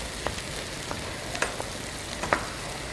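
Onions and green pepper fry for goulash in a hot pan, a steady close sizzle broken by sharp crackles and spattering pops, with no talking.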